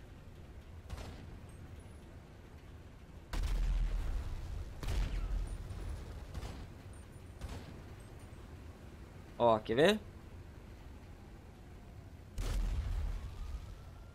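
Gunfire in GTA 5 with the Redux mod: sharp, booming shots land at irregular intervals, several ringing out into longer bursts, and someone speaks briefly between them.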